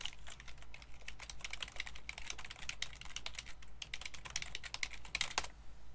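Rapid clicking of computer keyboard keys, continuous close typing in uneven bursts over a low steady hum.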